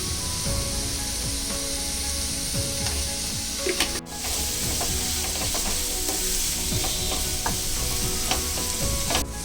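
Vegetables, tomato and paneer for paneer bhurji sauté in a hot pan, making a continuous loud sizzle with repeated stirring scrapes and a brief dip partway through, with no talking.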